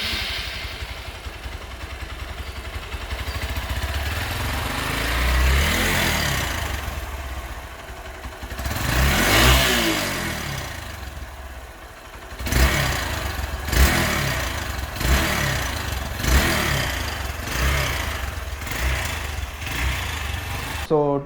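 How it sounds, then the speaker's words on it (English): Hero Xpulse 200 motorcycle with a dual-port exhaust and stage 1 catalytic converter removal, engine idling then revving repeatedly in loud close bursts, with a series of sharp throttle blips toward the end. "we'll just have a look through on how the stage 1 catcon removal"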